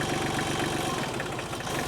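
Tractor engine idling steadily with a throbbing low rumble and a rhythmic mechanical knock, close and loud throughout, with no talking.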